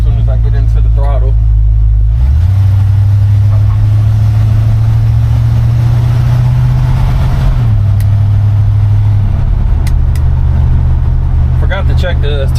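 A 1952 Chevy 3100 pickup truck engine pulls steadily under throttle, a loud, continuous low drone with a couple of shifts in pitch as it accelerates, heard close up from the cab.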